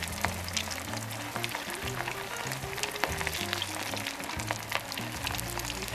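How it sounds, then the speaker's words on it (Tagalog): Fish frying in hot oil, a steady close sizzle and crackle that runs unbroken throughout, with a low musical tone playing underneath. "Okay, let's start to fry now. So, we have a hot oil here."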